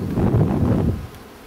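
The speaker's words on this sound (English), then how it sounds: "being old bees that are in the side of a corn crib, they're really being pretty good bees." Honey bees buzzing at a hive cutout in the side of a corn crib, a close, steady drone that fades toward the end.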